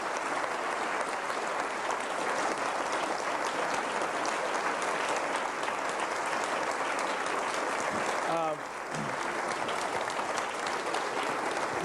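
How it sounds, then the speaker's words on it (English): Dense, steady applause from an audience at a university event, loud and continuous for the whole stretch with a brief dip near the end. "Let's give them a well-deserved round of applause."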